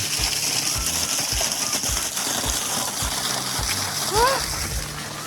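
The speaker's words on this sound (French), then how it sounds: "Là je suis juste dessous la cascade là." Steady rushing, splashing waterfall water fills the scene, loud and constant, heard from directly beneath the cascade on São Miguel in the Azores, with brief faint vocal sounds near the end.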